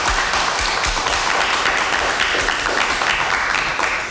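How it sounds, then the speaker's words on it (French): Studio audience applause on the French game show Des Chiffres et des Lettres, a dense, steady wash of clapping that fills the whole stretch at even loudness with no talk over it. "quelques applaudissements pour Frédéric Giraudet"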